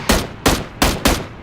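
Four sharp AWM sniper rifle shots ring out in a video game, each a loud close crack with a short decaying tail, spaced roughly evenly apart.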